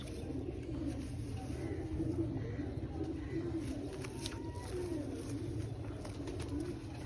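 Pigeon cooing sounds low and steady throughout, with a soft repeated murmur among other faint bird sounds; no talking is heard.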